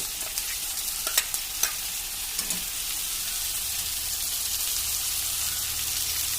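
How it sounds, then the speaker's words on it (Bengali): Spice paste being stirred and fried with katla fish in a pan: a dense, continuous sizzle fills the clip, with a few sharp utensil taps near the start and no voices. "মশলাটা একটু কষিয়ে নিই।"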